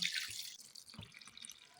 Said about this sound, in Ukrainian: І зараз я наливаю молочко постійно.